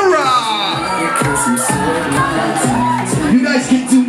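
Birthday party crowd at a fourteenth birthday celebration with an MC, whooping and cheering loudly alongside a voice on the microphone.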